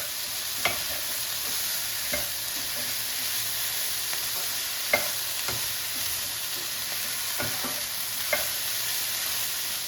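Chopped tomato cooks in a pan for spaghetti Bolognese, a constant bright sizzle broken by several sharp clicks of a spoon or spatula scraping against the pan.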